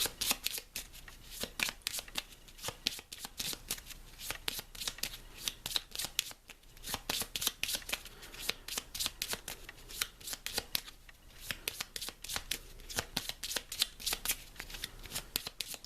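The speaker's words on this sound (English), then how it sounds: "So we shuffle our deck and draw 5 more cards." Rapid, crisp riffle shuffles of a card deck, repeated bursts of flicking cards in a steady rhythm, close and clear with no talking.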